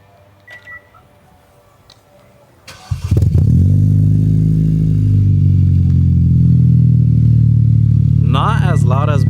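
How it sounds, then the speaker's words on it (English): A Kia Optima 2.0T with a new aftermarket exhaust fires up after a few quiet seconds and settles into a steady, deep, rumbling idle close by. Brief voices are heard near the end. "let's turn on the car and let's at least hear how the idle sounds"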